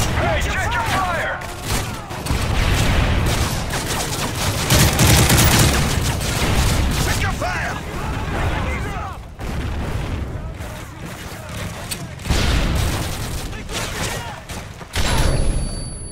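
Gunfire and explosions from the video game Call of Duty Modern Warfare multiplayer fill the whole stretch, with dense bursts and booms under game voice callouts.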